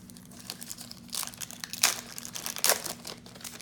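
Packs of 1991 Score hockey cards being torn open, with steady crinkling and crackling of wrappers and louder tearing bursts near the mic and no voice.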